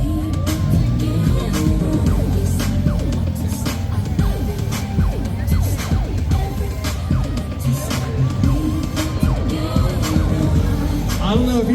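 A Volkswagen Golf making a slow pass at a low car limbo event, with its engine idling and creeping forward under steady crowd noise and people talking nearby.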